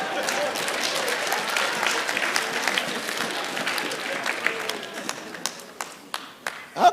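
Seminar audience on marriage clapping together, a steady close wash of applause that thins into a few separate loud claps toward the end.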